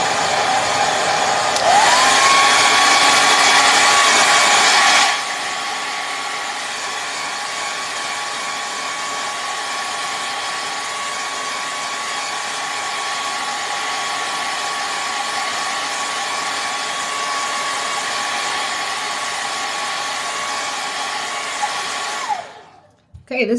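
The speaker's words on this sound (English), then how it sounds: "I'm going to be using the hair dryer again" A hair dryer runs continuously for over twenty seconds during a timed landscape art challenge, a loud steady whoosh with a high whine, louder in the first few seconds then settling to an even drone before cutting off.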